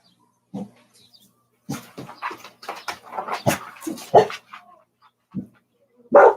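A dog barks and yips in short, uneven bursts, some bright and close, others softer whimpers, separated by brief pauses over a quiet background.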